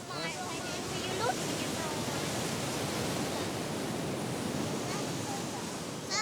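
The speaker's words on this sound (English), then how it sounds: "Now there's only the roar of the ocean for company." Steady roar of ocean surf on China Beach, a broad continuous wash of breaking waves that holds loud and unbroken throughout, with no voices.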